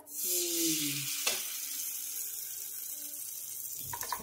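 A loud hiss of sizzling as batter meets a hot griddle, fading to a steady fry, with a brief clatter near the end.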